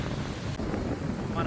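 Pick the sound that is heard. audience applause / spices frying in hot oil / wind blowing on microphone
wind blowing on microphone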